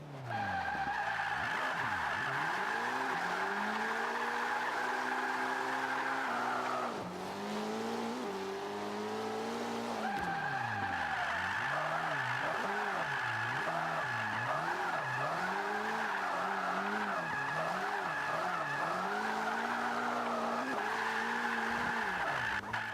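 A Mitsubishi Evo 8 drifting in the Forza 5 video game, its tires squealing loudly and continuously over a revving engine, with one brief dip in the screech partway through and no talk.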